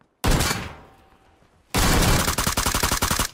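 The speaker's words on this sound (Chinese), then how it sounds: "有枪声，我立马循声而去" Gunfire in a battle royale video game: a loud close burst that rings out and fades, then a rapid sustained volley of shots firing in quick rhythm.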